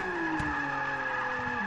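A Nissan 350Z in Forza 6 holds a steady, loud engine rev with a sustained drone, its pitch sagging slightly as it goes, alone with no talk.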